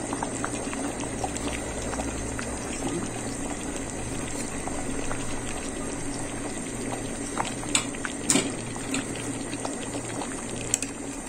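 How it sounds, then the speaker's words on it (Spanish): Chicken stew boiling in a pot on a stove, a steady bubbling simmer with occasional louder pops and gurgles, close and continuous with no talk. "5 minutos he dejado que hierva el pollo"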